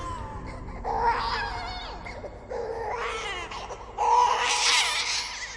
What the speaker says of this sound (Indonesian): Di lorong, terdengar tangis seorang bayi lirih.